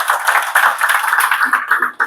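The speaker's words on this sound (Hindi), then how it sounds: "प्लीज डॉक्टर लीम के लिए जोरदार ताली।" Dense, steady applause from an audience, honoring Dr. Leem at a motivational DXN gathering, clapping continuously and fairly loudly for about two seconds with no talk over it.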